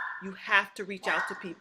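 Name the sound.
dog barking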